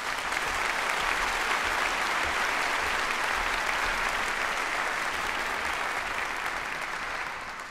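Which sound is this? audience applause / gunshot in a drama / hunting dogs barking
audience applause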